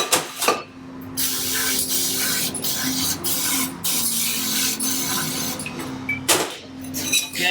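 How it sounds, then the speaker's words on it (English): Compressed air blasts into a cleaned KTM motorcycle fork tube in one long, steady broadband hiss, close and loud, ending with a few short bursts. "Again, blow it out some air."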